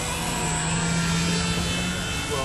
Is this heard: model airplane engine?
yes